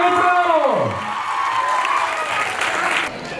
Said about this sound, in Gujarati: તાળીઓ ઘટીને જોઈએ મિત્રો